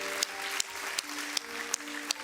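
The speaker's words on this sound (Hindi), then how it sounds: "तो जोरदार तालियां हो जाएं दयाशनी के लिए।" Studio audience clapping on a Hindi kids' singing television show, a steady, moderately faint applause with a few sharper accents at a regular pace, and a soft musical tone beneath.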